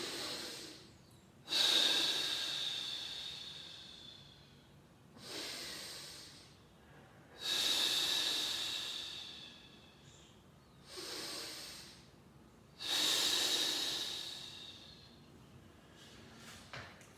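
A person taking big, slow breaths while holding a plank: five long hissing inhales and exhales, close and loud, separated by short pauses, with no talking.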